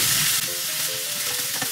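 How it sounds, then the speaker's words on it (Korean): Cocktail shrimp stir-fry in a pan with garlic and onion, giving a loud, steady hiss and sizzle with faint stirring scrapes and no talk. "그리고 아까 칵테일 새우 몇 개 안 되는 거 넣어서 같이 볶아줘요."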